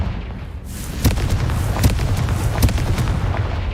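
A Confringo blasting spell in the video game Hogwarts Legacy sets off a series of deep, booming explosions, three or four sharp blasts over a rumbling low background.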